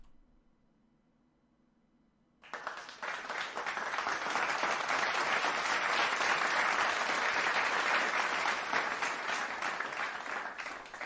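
A recorded applause sound effect starts abruptly after a quiet moment, then a dense, steady crowd clapping holds at full strength until the end.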